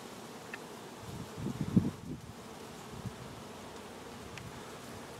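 Honeybees hum in a low, steady drone around a hive, swelling briefly in the middle before settling back to a soft, continuous buzz.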